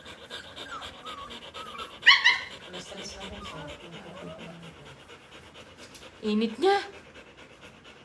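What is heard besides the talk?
dog Hershey panting heavily from heat stroke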